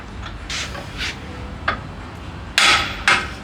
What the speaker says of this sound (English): let's throw that chisel back in for another couple hits